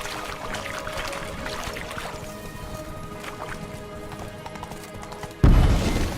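Horse hooves clip-clop at a steady walking rhythm in The Witcher 3, close and clear over soft ambient game sound, before a sudden low thump near the end.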